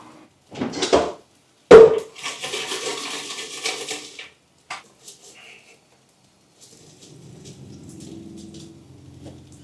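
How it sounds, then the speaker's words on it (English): Cut potatoes tumble into a home-kitchen pan with a loud clattering rush, then scrape and rattle as they are stirred in, followed by a quieter low sizzle. "I'm literally about to just toss them into the pan and stir them up with the rest."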